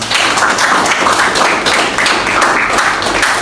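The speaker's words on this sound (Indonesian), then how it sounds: "Tepuk tangan untuk kelompok" A classroom applauding a student group, dense continuous clapping from many hands held at a steady loud level throughout.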